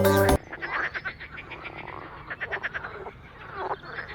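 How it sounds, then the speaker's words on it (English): Frogs croak in busy overlapping pulsing calls, several at once, moderately close and continuous, with a short burst of other sound at the very start. "When frogs start croaking like they've had 3 espressos, it's about to rain."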